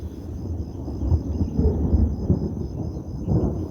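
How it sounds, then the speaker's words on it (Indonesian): Low, rolling thunder rumbles on for a few seconds, a deep distant roar swelling and fading with no voices. "Wah, datang petir teman-teman."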